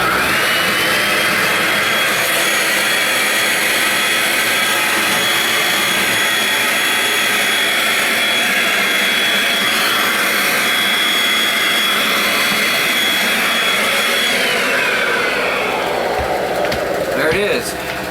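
An 800-watt-capable portable generator drones steadily and loudly at a tiny house build site, a constant mechanical hum with a whine over it, while a voice speaks over the noise.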